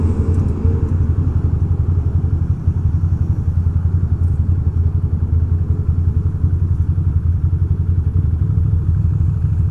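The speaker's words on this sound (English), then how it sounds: "my bike is running all funny." A motorcycle engine idles roughly and loud, close by, with a steady low rumble and an uneven clattering pulse that goes on throughout, and no voices can be heard.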